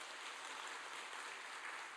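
Faint, even applause from a church congregation at a Friday night service, a soft continuous patter of many hands that sounds somewhat distant.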